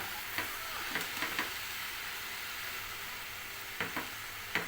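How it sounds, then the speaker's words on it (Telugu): Onions sizzle steadily in a pan as they are stirred up and down, with a continuous hiss broken by several scraping stir strokes. "కొంచెంసేపు ఇలా కిందికి పైకి ఇలా కలుపుకోవాలి ఉల్లిపాయలు అడుగులు ఉంటాయి"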